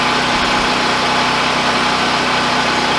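An Oregon brand portable generator runs steadily in a backyard with a constant, fairly loud mid-pitched engine drone and no pauses.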